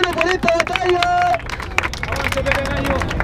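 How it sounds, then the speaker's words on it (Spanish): A crowd at a freestyle rap battle final in Catamarca claps and cheers after the round, with close sharp hand claps and crowd babble under a loud voice. "¡Fuerte el aplauso, hermano, por esta batalla!"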